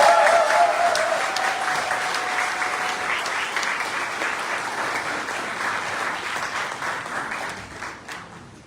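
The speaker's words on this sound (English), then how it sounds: "give all our graduates a round of applause." Sustained audience applause for graduates at a University of the West Indies graduation ceremony, a dense wash of many hands clapping that starts full and slowly tapers off over several seconds.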